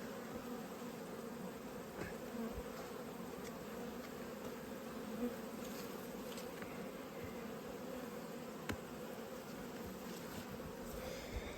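Honey bees hum in a steady, dense drone around an open hive during an inspection, a soft continuous buzz with no voices over it.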